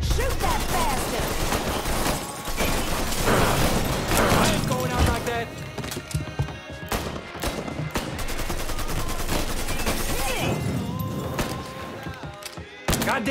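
Heavy gunfire in the crime game Mafia III, sustained automatic bursts and single shots crackling continuously through a chaotic firefight, with shouting voices mixed in.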